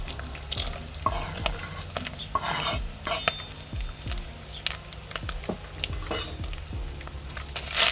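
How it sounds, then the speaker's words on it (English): Beef mince fries in a pan, a steady sizzle broken by repeated scraping and clacking as a utensil stirs it against the metal, close and fairly quiet with no talk. "It actually sounds like it's frying rather than boiling, and that's exactly what you're after."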